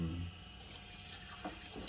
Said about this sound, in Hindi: गर्म पानी का सहारा लिया जा रहा है कि एक भी बूंद ना बचे।